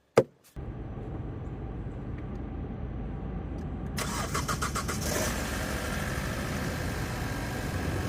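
A brief click, then a 2018 Hyundai Elantra GT engine with new spark plugs and coils cranks and catches, settling into a steady idle that grows slightly louder and rougher.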